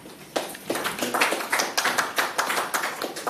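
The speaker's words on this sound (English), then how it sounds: "Please give him a round of applause." A small audience at a hurricane-preparedness event for small businesses and farms welcomes a speaker with sparse, quiet clapping, the individual hand claps distinct and roughly rhythmic over a few seconds.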